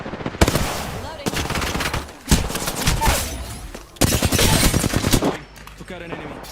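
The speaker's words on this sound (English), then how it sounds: "Hey, getting shot at." Gunfire in a battle royale video game comes in several loud bursts of rapid automatic fire and single shots, separated by short pauses, with brief speech between volleys.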